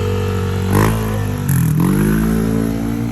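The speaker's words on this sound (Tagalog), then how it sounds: "Siya, ayan, nabuhay-buhay na yung motor." A motorcycle with a JVT block, freshly set up, revs loudly up close during a test run, the engine note rising and falling through two quick throttle blips over a steady idle.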